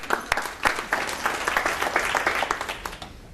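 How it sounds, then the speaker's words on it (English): Workshop audience giving a round of applause, a burst of many hands clapping close by in a small room, steady and fairly loud, tapering off toward the end. "Give him a round of applause."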